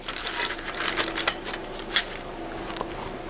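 A metal Altoids mint tin is opened and handled up close, giving light clicks, rattling and crinkly clatter in a quick, busy burst with a couple of sharper metallic snaps.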